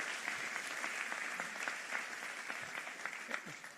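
A house audience gives steady, dense applause that holds at an even level throughout and sounds somewhat distant, with no talking.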